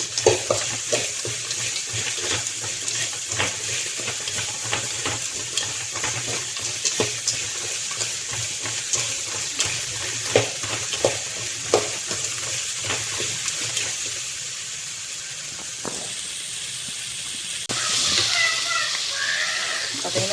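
Ingredients for lemon rice are sautéed in a pan, a continuous hissing sizzle with frequent small ticks and stirring scrapes, easing off briefly before surging again near the end, with a voice talking intermittently over it.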